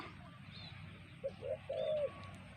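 A spotted dove coos at a dove-calling contest in Surin, Thailand: three short, low, rounded coos in quick succession, moderately close, over a steady background hum.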